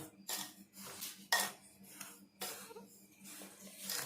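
A spoon stirs rava cake batter in a bowl, giving a few distinct clinks and scrapes spaced irregularly against a quiet background, close and fairly soft.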